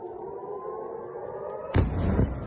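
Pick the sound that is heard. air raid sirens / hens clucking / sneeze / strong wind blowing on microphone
air raid sirens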